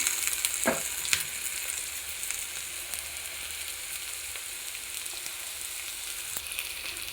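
Onions and tomato fry in a pan with a continuous close sizzle, broken by a couple of brief utensil knocks early on and faint occasional clicks.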